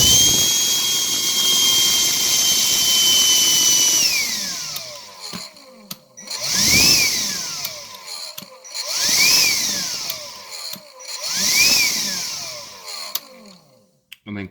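A Black & Decker 16V CHV1410L lithium hand vacuum runs as a steady high motor whine. It first holds one pitch, then is switched off and on several times, each restart ramping up and falling away in short bursts.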